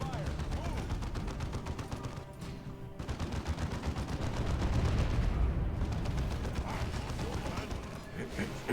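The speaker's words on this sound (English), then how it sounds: "The enemy has targeted this area. Incoming fire!" Incoming enemy artillery and gunfire in the video game Dawn of War 2 rumble and crack in dense, rapid bursts, with voices talking over the steady battle noise.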